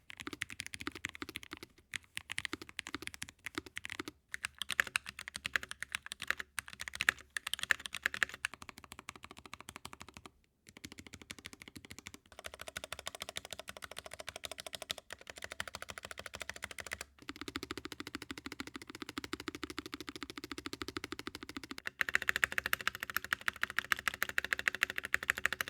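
Keys clack steadily on several Discord merch store keyboards, including a metal one, in close, rapid bursts of typing separated by brief pauses as different boards are tried in turn.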